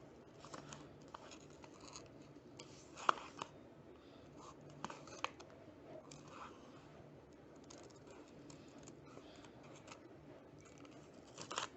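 Scissors cut through fabric along a child's shirt front neck shape, faint soft snipping and scratchy slicing strokes repeating irregularly throughout, close but quiet, with no talking.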